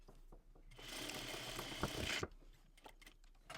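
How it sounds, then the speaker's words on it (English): A sewing machine stitches across a folded fabric strap in one steady, close burst of about a second and a half, with faint handling clicks before and after. "And then I'm going to stitch across that fold."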